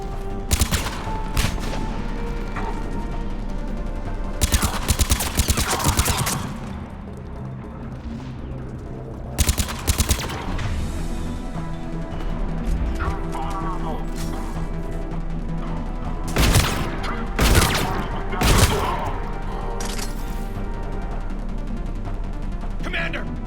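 Repeated bursts of gunfire and impacts crack through a Mass Effect 3 battle, loud and close. A low drone runs underneath, and characters shout over the shooting.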